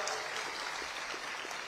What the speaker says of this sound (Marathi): एकदा भारतीय क्रिकेट टीमच्यासाठी जोरदार टाळ्या वाजवू द्या